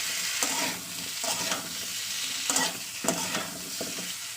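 Okra and potatoes sizzle in a hot pan while a utensil scrapes and stirs in repeated strokes, a constant frying hiss underneath.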